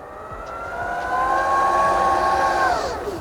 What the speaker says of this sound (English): Cue one of the loudest boot mechanisms in the world.